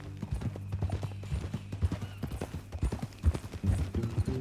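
Steady clip-clop of horse hooves in the Western video game Red Dead Redemption 2, a regular near rhythm of light thuds with a faint low hum underneath.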